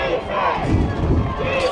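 At a football game, a crowd lets out a short, loud burst of shouting and cheering that lasts under two seconds.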